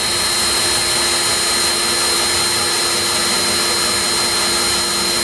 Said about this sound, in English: So we'll drill out the next one